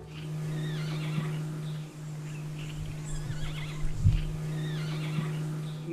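A jay mimics a horse's whinny in soft, repeated neighing calls over a steady low hum, fairly faint and distant.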